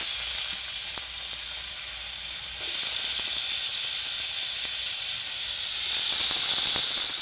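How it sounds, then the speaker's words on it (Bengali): Potato pieces coated in salt and turmeric fry in hot oil, giving a dense, continuous close-up sizzle and hiss with a few faint ticks from stirring. "এবার আলুটা ভেজে নেব।"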